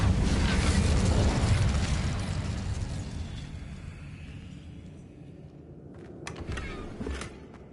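An Incendio fire spell bursts in Hogwarts Legacy with a loud, close explosive whoosh that rolls into a fading rumble. A few smaller pops and crackles follow near the end.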